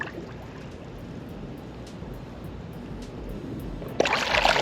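An Aiper HJ1102 robot pool cleaner sits submerged as it fills with water, giving a steady low gurgling and trickling wash, with a louder splashy surge near the end.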